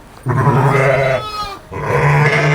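A flock of sheep and lambs, about thirty to thirty-five animals, bleats loudly and close by in two long, wavering calls separated by a brief pause.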